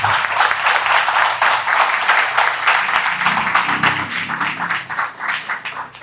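A church congregation claps together in a full, sustained round of applause, loud and dense at first and then thinning and tapering off near the end.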